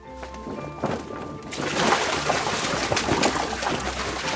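Water sloshes and churns continuously at close range in a foley tub, mimicking a boat moving through water, broad and splashy, rising after a quieter start with faint tonal sounds underneath.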